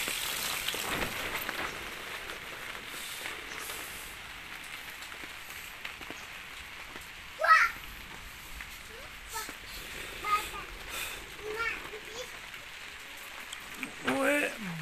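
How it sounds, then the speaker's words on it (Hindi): Very heavy rain pours steadily over a rooftop and fields during a record downpour, a continuous hiss of water with occasional closer splashes and thumps, with someone speaking over it. "ये इतनी तेज़ बारिश हो गई है ना कि ऊपर पानी पानी हो गया बस हर तरफ"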